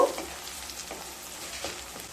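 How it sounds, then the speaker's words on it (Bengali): Garlic, ginger and green chili spices fry in a pan over low to medium heat, giving a steady, soft sizzle with faint stirring noises and no talking. "এবার সমস্ত মশলাগুলোকে খুব ভালোভাবে রান্না করে নেব।"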